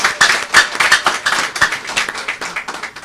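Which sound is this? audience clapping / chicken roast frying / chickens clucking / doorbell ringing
audience clapping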